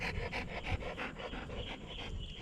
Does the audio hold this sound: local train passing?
no